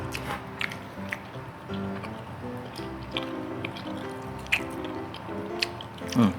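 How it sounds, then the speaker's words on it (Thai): Close, wet chewing of cheese tteokbokki, chewy rice cakes squishing and clicking in irregular bites, while someone talks quietly in the background. "อยากให้ทุกคนฟังเสียงเคี้ยวมากเลย"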